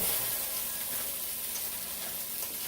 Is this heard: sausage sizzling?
yes